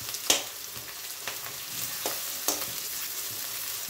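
Chopped onions fry with cumin and cinnamon in a pan, giving a soft continuous sizzle punctuated by several sharp clicks and scrapes from a spoon stirring, with no voices.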